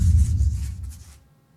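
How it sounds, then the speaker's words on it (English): Picking-grass sound effect from an indie video game: a brief rustling, scratchy burst with a low rumble that fades out within about a second, with no voice over it. "That is the sound of picking grass"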